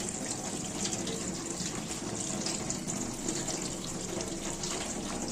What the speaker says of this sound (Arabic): انا بديها صدمه تحت الميه الساقعه اهي